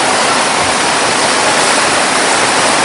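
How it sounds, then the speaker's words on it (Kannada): A river swollen after heavy rain rushes past in a steady, loud, unbroken roar of water. It stays close and constant throughout with no other sounds. "ಫುಲ್ ಮಳೆ ಇರೋದ್ರಿಂದ ನೀರು ತುಂಬ ಹರಿತಿದೆ ಹೊಳೆಯಲ್ಲಿ"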